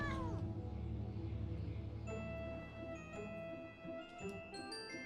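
A cat's drawn-out, wavering meow sounds in Final Fantasy 14, followed by sustained tonal game music and faint chiming notes.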